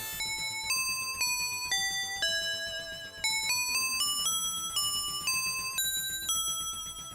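Bright, synthesized bell tones from the Mega Drive soundtrack of the shooter Dangerous Seed play a stepping melodic line over a steady rhythmic backing, loud and continuous with no voices.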